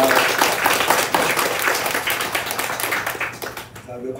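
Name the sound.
congregation applause in church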